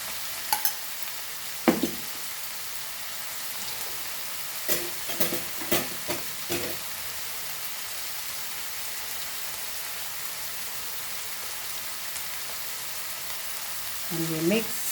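Ginger garlic chili paste sizzles steadily in a pan for Goan shark fish egg bhurji, with a constant hiss of frying broken by several sharp clinks and scrapes of a spoon stirring against the pan.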